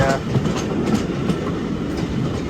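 A Class 31 diesel locomotive in Train Sim World, running on the North Yorkshire Moors Railway, moves off with a steady low rumble of engine and wheels that stays constant throughout, close and fairly loud.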